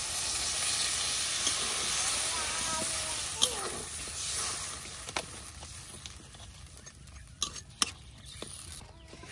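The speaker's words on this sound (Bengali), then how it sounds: "এখন আমি বাইটা রাখা মাছগুলা দিয়ে দেন। এখন ঝোল দিয়ে দেন।" Broth is poured over spiced koi fish frying in a pan. A broad, steady sizzle softens over time, with sharp spoon clicks and scrapes from stirring near the end.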